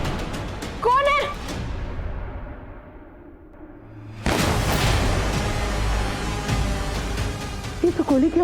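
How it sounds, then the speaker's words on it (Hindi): In a TV drama scene, a loud, booming gunshot cracks in suddenly after a rising whoosh and rumbles on for several seconds, with voices speaking before and after it. "ये तो गोली की आवाज है।"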